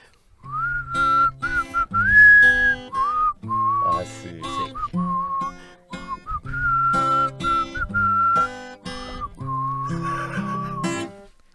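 A person whistles a lively tune nearby, a series of clear high notes and short phrases with brief pauses between them.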